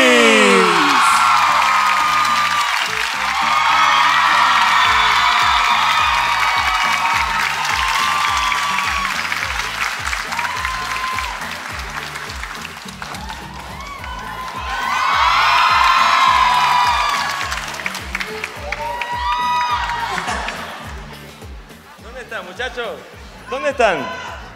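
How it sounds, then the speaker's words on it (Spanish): A studio audience welcoming the guest Noel Schajris erupts in loud applause, cheers and whoops that keep going, rise again midway, then fade toward the end while a host talks over it. "Queremos recibir con un fuertísimo aplauso al gran Noel Shahri."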